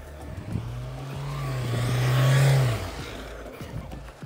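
Mahindra Thar off-road engine revving hard at full power with wheels slipping, a loud sustained climb in revs that peaks and falls away, close by with no talk over it.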